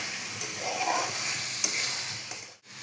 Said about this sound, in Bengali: আলুগুলো দিয়ে এখন আমি সুন্দরভাবে কষাবো। যতক্ষণ না তেল না ছাড়বে ততক্ষণ আমি জল দেবো না।